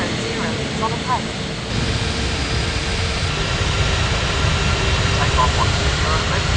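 A jet airliner taking off in an air traffic control video game, a steady loud broadband engine roar throughout, with faint radio-style voices mixed underneath.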